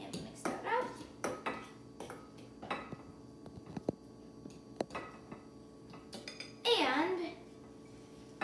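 Spoon scraping and clinking against a bowl as deviled egg filling of yolks, seasoning and black pepper is mixed, a series of close, irregular taps and scrapes with a brief louder scrape near the end and a short word spoken at the start.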